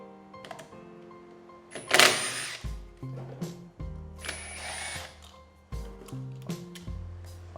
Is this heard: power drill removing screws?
yes